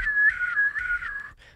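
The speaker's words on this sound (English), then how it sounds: "Most of the time the whistle doesn't come out" A beatboxer's tooth whistle, a steady high whistled tone held for over a second with slight pitch wavers and short breaks, close and clear, ending with a brief fainter whistle.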